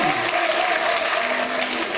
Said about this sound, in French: Par applaudissement, les fumeurs.